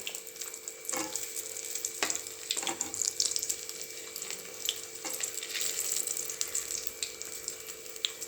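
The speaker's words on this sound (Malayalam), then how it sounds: "രണ്ട് ഭാഗവും മറിച്ചിട്ട് നമുക്കിത് ഫ്രൈ ചെയ്തെടുക്കാം." Egg samosas frying in hot oil give a steady, moderately loud crackle and sizzle with scattered sharper pops throughout, heard alone without voices.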